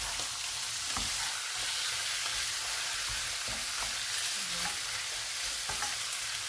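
Chicken bihon frying in oil, a dense, steady hiss of sizzling with scattered stirring scrapes and taps, close and without speech.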